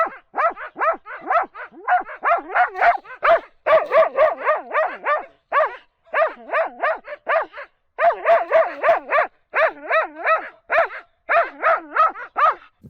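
A pack of hunting dogs on a spring bear hunt barks in rapid repeated volleys, loud and close, with yelping, excited bursts broken by short pauses.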